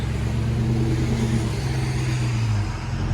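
A 2020 Dodge Charger Daytona with a 6.4L Hemi V8 and a dual exhaust with rear resonator delete, idling with a deep, steady, rumbling burble that stays loud and even, with a slight dip in pitch near the end.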